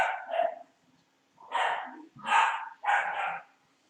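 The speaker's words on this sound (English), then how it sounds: "Can you guys hear that barking?" A dog barks close by: one quick bark, a pause, then three loud barks in fairly quick succession.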